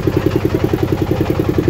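A boat's engine runs on the Padma river in Bangladesh, a steady close drone with a fast, even pulsing throb that holds loud and unbroken throughout, with no voices.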